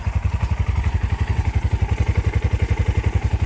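A Hawk 250 motorcycle engine idles on half choke while warming up, a steady, fast thumping exhaust pulse that repeats evenly and close by throughout, with no talking.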